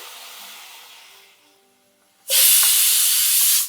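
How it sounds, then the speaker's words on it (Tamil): Water poured into a hot pot of oil and vegetables while cooking Tirunelveli sambar erupts in a sudden loud, steady sizzling hiss that holds after a quieter stretch of low frying noise. "இப்போ கொஞ்சம் தண்ணி ஊற்றிக்கலாம் காய் வேகிற அளவுக்கு"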